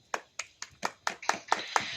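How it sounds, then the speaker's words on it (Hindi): Congregation at a church service clapping hands in steady unison, about eight sharp claps at an even beat that grow slightly fuller toward the end, close and clear with no talking. "ताली बजाइए।"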